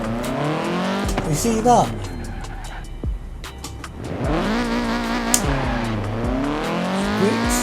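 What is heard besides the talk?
Audi TTS doing a burnout in video game Forza Horizon 4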